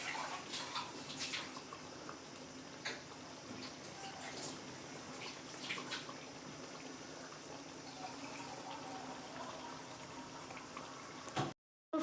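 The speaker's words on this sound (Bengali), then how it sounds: "এবার ঝোলটার সাথে মাছটা ফুটবে" Bhetki fish curry bubbles steadily in its gravy, a soft continuous simmering hiss with faint pops, fairly quiet and even throughout.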